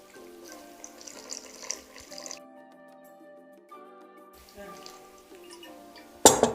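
Water poured a little at a time into a pot of roasted tomato soup, with gentle trickles and drips that come and go, ending in a brief louder splash.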